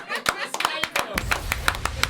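A few children clap by hand, with sharp, distinct claps in a loose, uneven rhythm, close and fairly loud, while voices talk underneath.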